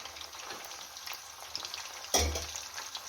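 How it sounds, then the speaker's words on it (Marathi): Chicken 65 pieces frying in hot oil give a continuous crackling sizzle, with a sharper louder burst of spattering partway through as more pieces hit the pan. "तर अशा प्रकारे आपलं टाकून झालेलं आहे तेलामध्ये"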